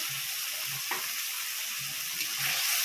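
Onion-based spice paste sizzles steadily in a hot pan for a jackfruit and potato curry, a continuous close frying hiss with a few soft low bumps and no voices.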